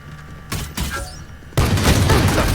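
Valorant gunfire during a high school esports match, a wall-bang sequence of sharp shots with a brief burst early on and a loud sustained volley in the second half.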